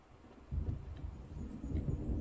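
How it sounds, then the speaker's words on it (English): Distant thunder in the Alan Wake video game as a storm approaches, a low soft rumble that swells after a quiet start and rolls on faintly, with no voices. "It seems there's a storm coming."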